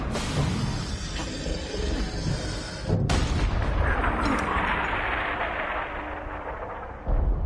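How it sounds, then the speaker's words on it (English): Bombs going off in the Borderlands 3 video game, a dense barrage of loud booming explosions with a sharp blast near the middle and a sustained rumbling roar after it. "Oh snap, bombs away."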